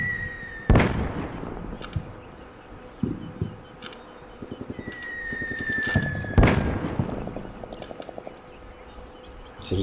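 Mortar rounds land in the Combat Mission Shock Force war game, two big booming blasts a few seconds apart, each set off by a rising whistle, with smaller pops and crackling between them.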